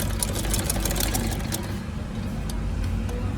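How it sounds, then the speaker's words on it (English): A sewing machine back stitches a sleeve placket, making a steady mechanical whirr with fast rhythmic ticking that eases slightly partway through. "I've done my back stitch. I didn't do a very long back stitch, I just did a short one."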